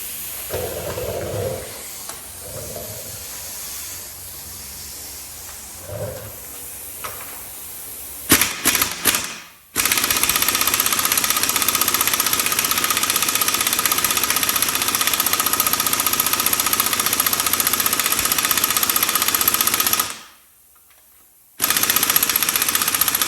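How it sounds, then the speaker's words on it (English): An impact gun hammers at the harmonic balancer bolt during an LS engine camshaft teardown: a few short rattling bursts, then long, loud, continuous machine-gun-like hammering close by, briefly stopping before starting again. "So the impact gun is not going to work."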